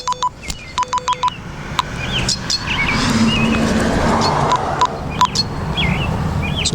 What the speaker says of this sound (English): the alarm on the radio goes off.